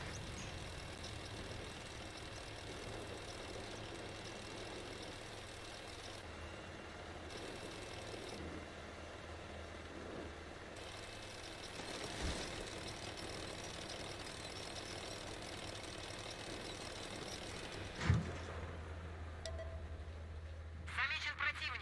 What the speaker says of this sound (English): As I just hear all of the fucking turbine engines.